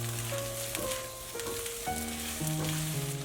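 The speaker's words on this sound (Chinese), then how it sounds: "再放入茄子翻炒均匀" Eggplant stir-fried in hot oil in a wok gives a steady close sizzle and crackle with occasional stirring scrapes, moderate in level throughout.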